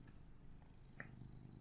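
A cat purrs softly and continuously, a faint low rumbling hum close to the microphone, with a brief higher chirp-like note partway through and no talking.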